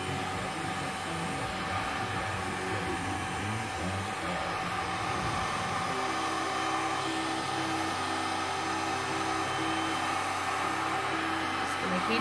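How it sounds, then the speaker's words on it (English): A new heat gun blowing hot air over poured resin, a steady loud whooshing roar that holds level throughout, with its pitch shifting slightly about midway. "And I have a new heat gun."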